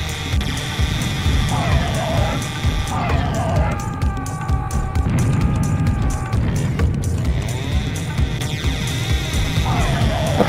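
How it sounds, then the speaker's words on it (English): A charging bull in a video game roars amid layered game noise of rumbling, crashes and shifting tones, loud and dense across the whole stretch, with game sounds rising and falling in waves. "that's the sound of the charging bull"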